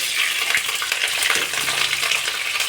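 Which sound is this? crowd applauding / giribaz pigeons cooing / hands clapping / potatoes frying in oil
potatoes frying in oil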